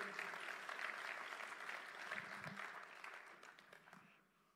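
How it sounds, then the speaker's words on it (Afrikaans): A seated audience gives warm, steady hand-clapping as guests Boeta and Shamaine Swart are welcomed onto a stage, heard at a moderate distance and fading out toward the end. "Kan julle hulle 'n lekker hande klap gee asseblief?"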